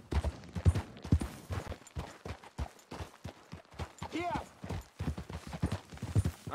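Hooves from a horse ridden at speed in Red Dead Redemption 2 thud in a quick, rhythmic clip-clop that continues across the whole clip, fairly close, with game ambience underneath.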